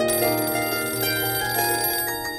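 A telephone rings continuously in a Hindi TV crime drama scene, a bright electronic ringtone trilling steadily and loudly with no talk over it.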